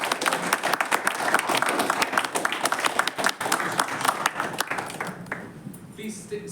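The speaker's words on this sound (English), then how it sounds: "kindly please help me with a huge round of applause, the outgoing officers of Gurgaon Toastmasters Club" Audience at a Toastmasters club installation ceremony applauds the outgoing club officers, a dense, steady round of clapping from a crowd that fades slightly near the end.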